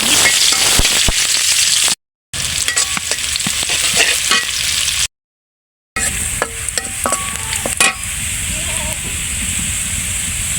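Dried red chillies, onion and green chillies fry in a pan with a constant loud sizzle and crackle, broken by scraping stirs and two brief silent gaps.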